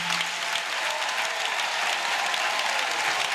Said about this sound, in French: par un tonnerre d'applaudissements